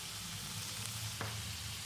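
Two chopped medium tomatoes with rock salt and turmeric sautéing in a pan over softened onions for a mushroom gravy, cooked down until mushy, giving a steady, close sizzle with a faint stir partway through.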